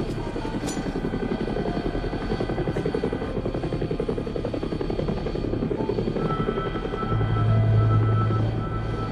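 A helicopter in a war film scene drones steadily with a rapid rotor chop, loud and close throughout, swelling slightly near the end, with no talk.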